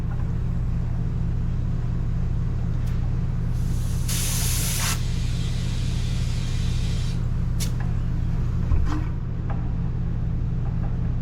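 Air hissing from a tire valve while inflating the big tires of a 2018 Hyundai Tucson, a loud burst of hiss over a steady compressor rumble with a couple of short spurts afterward.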